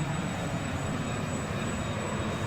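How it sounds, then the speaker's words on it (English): Learjet jet engines run steadily on the ground before a flight to Antarctica, a constant, dense roar with a faint high whine, loud and unbroken. "we got the airplane started up, getting ready to head back"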